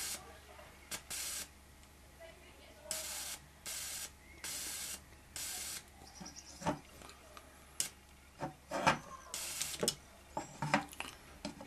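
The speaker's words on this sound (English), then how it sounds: "when I now activate the Kacher, you will see that the motor will try to start" A Kacher coil (a small Tesla-type coil) switched on to drive a small DC motor gives repeated bursts of loud, harsh hissing, each lasting about half a second, separated by short pauses, along with scattered faint clicks.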